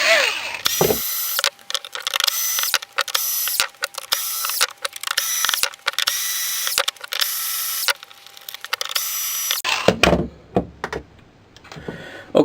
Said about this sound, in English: I have to unscrew this gearbox to fix this.